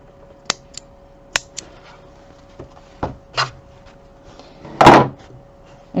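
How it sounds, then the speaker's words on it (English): Sharp scissor snips cutting threads on a leather zip-around wallet, several short crisp clicks spaced irregularly, the last one longer and louder, close up with no speech. "Now you're going to snip off your threads."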